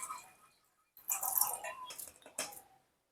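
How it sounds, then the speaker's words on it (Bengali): Water poured into a pressure cooker holding chana dal, a short splashing trickle that stops and then comes in two brief bursts, close and fairly quiet, with no talking. "সামান্য পরিমাণ জল দিয়ে দেবো।"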